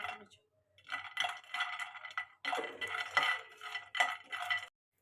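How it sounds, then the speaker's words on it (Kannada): Peanuts are dry roasted and stirred in a pan for Enne Badanekai, giving several bursts of rattling, scraping clatter with short pauses between, close and fairly quiet. "ಅದಕ್ಕೆ ಒಂದು ಪ್ಯಾನಲ್ಲಿ ಡ್ರೈ ರೋಸ್ಟ್ ಮಾಡ್ಕೋಬೇಕು"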